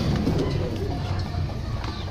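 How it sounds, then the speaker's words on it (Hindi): Soft, low pigeon cooing close by, a steady murmur through the whole moment, from a keeper's prized female pigeons being handled and shown. "मैंने काफ़ी कबूतर लिए हैं, मगर ये वाहिद कबूतर है।"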